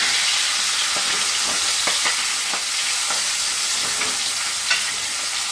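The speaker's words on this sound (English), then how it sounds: "Gonna sear the other side here." Pork chops sear in a frying pan, a loud, continuous sizzling hiss with occasional soft clicks and scrapes of the pan, close and steady without talk.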